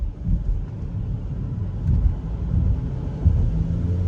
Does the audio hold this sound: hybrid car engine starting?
yes